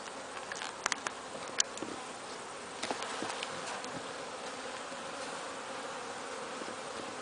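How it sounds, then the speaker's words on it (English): Honey bees buzz steadily in an open beehive during an inspection among nurse bees, pollen and honey stores, a dense close hum with a few sharper bursts as single bees pass near. "we've got our nurse bees and pollen down here"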